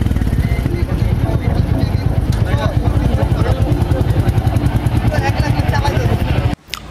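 A Royal Enfield motorcycle engine idles close by with a steady, rhythmic low thump that runs unbroken, then cuts off abruptly near the end.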